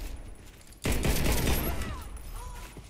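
A CZ 75 pistol fires in the Warface video game, a sharp burst of shots close and loud, followed by a fading echo and game ambience.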